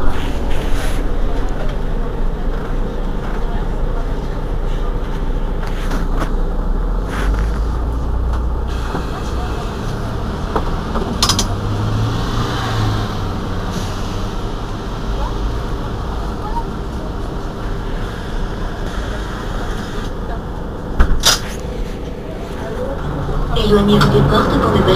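A Mercedes-Benz Citaro G C2 articulated RTM city bus, no. 2178, on line B2 in Marseille, hums and rumbles steadily from inside the cabin. Engine and road noise dominate, with occasional rattles and announcement-style speech.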